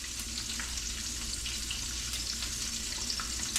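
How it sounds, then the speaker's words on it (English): Floured frog legs fry in hot grease over medium heat, a continuous dense crackling sizzle with occasional sharper pops, steady and close throughout with no talking. "drop her in the grease"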